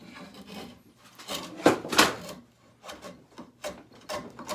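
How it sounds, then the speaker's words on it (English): A hand tool strips bark from a wooden handle for a bush hook at a workbench. Close, dry rasping scrapes come in several separate pulls of uneven strength, with quiet gaps between strokes. "I'm pulling the bark off right now."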